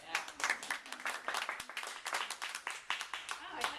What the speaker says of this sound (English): Easy applause there